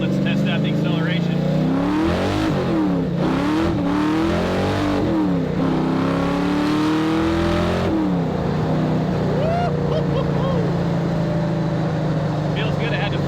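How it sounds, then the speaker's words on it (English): Factory Five Cobra replica engine accelerating hard, revs climbing repeatedly through the gears with loud throaty pulls and quick drops at each shift, then settling into a steady cruise. "let's test out the acceleration"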